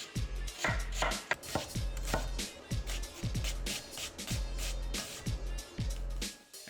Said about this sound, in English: First up, finely slice an onion.